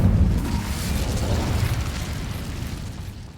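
An Incendio fire spell in Hogwarts Legacy erupts with a loud, rumbling whoosh of flame that rolls on steadily for a few seconds before tailing off, ending on a small sharp pop.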